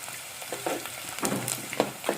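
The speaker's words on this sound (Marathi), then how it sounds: "आपलं कांदा व्यवस्थित भाजून घेऊया" Onion roasting in a pan for a Malvani wet-cashew usal gives a steady sizzle with intermittent scraping stirs, moderately close, with no talking.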